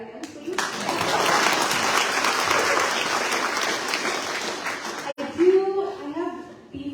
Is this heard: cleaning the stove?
no